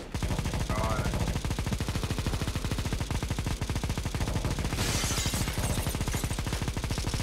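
Sustained automatic weapon fire in a Counter-Strike: Global Offensive (CS:GO) campaign mission, a loud, rapid, unbroken machine-gun rattle lasting throughout, with brief muffled voices under it.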